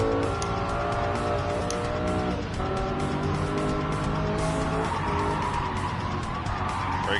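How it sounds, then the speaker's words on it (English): Gran Turismo 7 race car braking hard into a corner, its engine note dropping through the gears as the tires squeal and skid, loud and continuous throughout. "Braking here in the corner."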